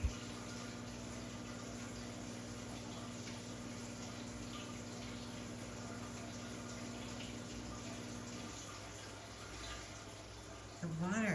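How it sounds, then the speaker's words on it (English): Steady running water trickling and splashing through a hydroponic tower garden, a continuous even wash of liquid noise that shifts slightly near the end. "The water is so loud sometimes."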